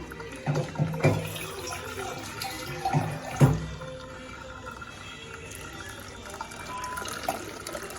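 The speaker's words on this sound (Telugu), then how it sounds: "కొంచెం కూల్ వాటర్ యాడ్ చేయాలి" Cool water splashes and runs over freshly cooked ragi millet noodles being strained, a few sharp pours and splashes early on, then a softer steady trickle nearby.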